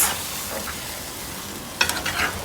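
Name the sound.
stirring curry pork in a pot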